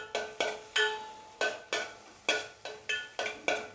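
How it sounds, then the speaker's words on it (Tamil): Green chilli and bay leaf fry in butter on a low flame, heard as a close, steady sizzle broken by about nine regular stirring scrapes of a spoon against the pan. "இந்த பட்டரில் ஃப்ரை ரோஸ்ட் ஆகிறது"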